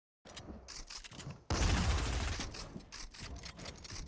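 Gunfire in the video game Fortnite: after a brief silence, a few quick shots give way to a loud, dense burst of rapid automatic fire, then more scattered shots continue to the end.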